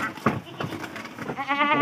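Goat bleating at a livestock market in Solo, a wavering nasal bleat rising near the end under background chatter and crowd noise; people talk nearby.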